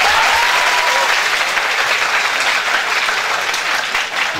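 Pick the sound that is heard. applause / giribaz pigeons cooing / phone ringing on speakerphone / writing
applause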